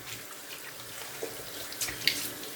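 Tap water runs into a sink as shaving lather is rinsed off, a steady close splashing hiss with a few small drips and splashes, no voices.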